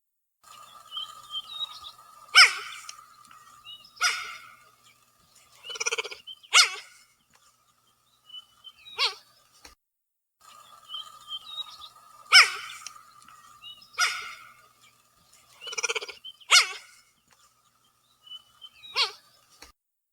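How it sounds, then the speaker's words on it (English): A recorded cheetah call played back: a series of short, high chirping yelps in clustered bursts separated by brief pauses, clear and fairly close against a quiet background. "Let me pull up a vocalization of a cheetah calling"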